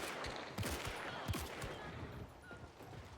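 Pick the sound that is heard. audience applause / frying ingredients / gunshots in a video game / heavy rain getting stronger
gunshots in a video game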